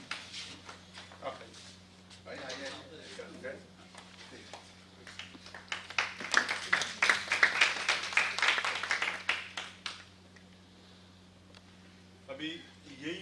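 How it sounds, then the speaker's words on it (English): An audience at an Innovation Day event applauds a certificate recipient, scattered claps building to a louder round of clapping in the middle and then fading, with background hum and a few voices nearby. "Can we have a hand of applause for him?"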